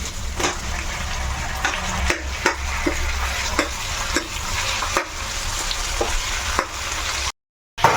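Onions and green chillies frying in a pan with tomatoes, a steady sizzle broken by repeated stirring scrapes at an uneven rhythm, close up with no talking.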